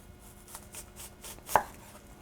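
A knife slices through onion on a cutting board in a quick series of soft, evenly spaced cuts, ending in one sharper thud, close and quiet.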